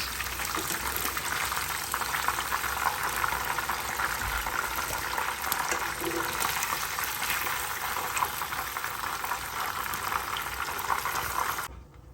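Fish fries in hot oil for a catfish stew, a loud, dense, continuous sizzle and crackle heard up close, holding steady for about twelve seconds before cutting off abruptly.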